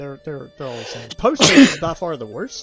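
One sharp sneeze bursts out in the middle of a casual conversation between people talking about food delivery apps, close and loud, with voices speaking just before and right after it.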